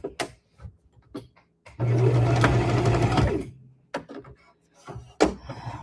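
Sewing machine stitching fabric for a rag bag, a close steady mechanical whir running about a second and a half, framed by scattered clicks and handling knocks before and after.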